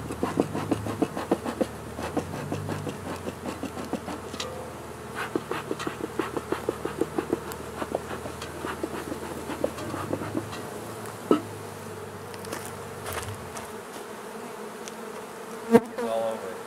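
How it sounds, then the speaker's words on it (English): Honey bees swarm around a heavy hive box during beekeeping work, a dense steady buzz with many close wingbeats and scattered sharper taps and knocks throughout. "This is a heavy box with bees flying all over it."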